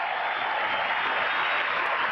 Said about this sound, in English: Huge cheer to fight back, to hang on to this title